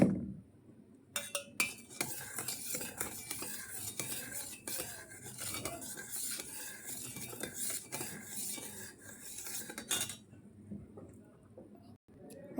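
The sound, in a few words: stirring salt into a mixture with a spoon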